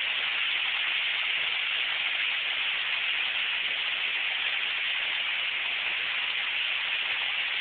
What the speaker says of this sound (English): It's like the rain goes down and picks up again.